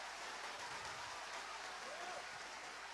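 A church congregation applauds in a steady, continuous wash of clapping that is fairly faint and distant, with no speech on top.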